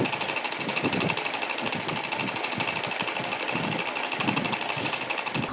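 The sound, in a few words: sewing machine stitching lining and strips of doll dress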